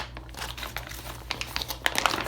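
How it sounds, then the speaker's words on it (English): Thick commercial-grade 6mm plastic bag crinkling and rustling up close, a steady run of crackly crunches that grows sharper and louder toward the end, with no voices. "6mm plastic bag, so it's really thick"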